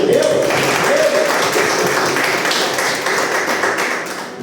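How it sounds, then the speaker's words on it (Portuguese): A church congregation applauds during a worship service, dense and loud continuous clapping filling the room for several seconds, with a voice faintly audible beneath it at the start. "Vamos aplaudir ao Senhor, amém?"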